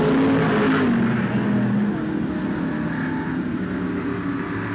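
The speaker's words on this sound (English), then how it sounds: "As the field continues to whiz around the track." American Vintage Modified race cars roar past on the Waterford track, a loud, steady wash of engine noise from a field running together with no break.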